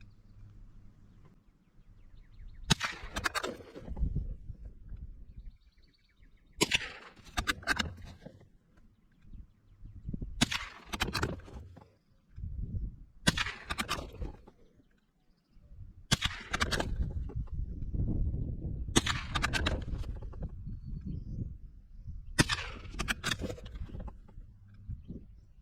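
Ruger American .22 LR rifle firing Aguila bulk-pack ammo outdoors, seven sharp cracks spaced a few seconds apart against a low background of wind and handling noise.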